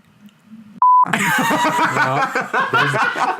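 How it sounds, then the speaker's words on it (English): A single loud steady censor bleep cuts in briefly, followed by chuckling and lively talk from several people. "There's the beep."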